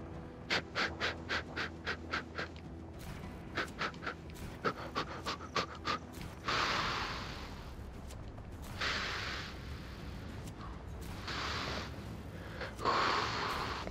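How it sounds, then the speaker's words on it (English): A Just Cause 3 character breathes heavily: a fast run of rhythmic, panting breaths, close and clear. They slow into longer, hoarse, gasping exhalations separated by pauses, with no speech. "Breathing heavy."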